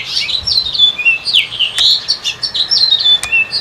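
A loud male house finch pours out rapid, tumbling warbles and chirps, continuous and close, with a second finch's quieter notes mixed in.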